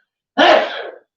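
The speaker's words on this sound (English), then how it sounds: "he sneezed" One sharp, close sneeze bursts out after a moment of silence, lasting well under a second before cutting off.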